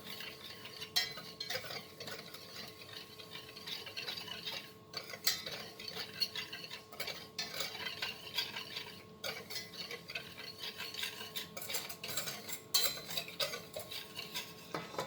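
A spoon stirs dry chocolate dessert ingredients with Nescafe in a bowl, producing steady, quiet scraping and light clinking that continue without pause, close to the listener.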